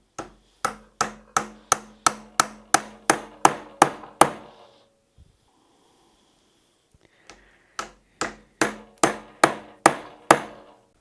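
Glued wooden dowels are hammered into drilled oak holes: two runs of sharp, evenly spaced loud hammer blows, about ten in the first and eight in the second, separated by a few quiet seconds with faint handling noises.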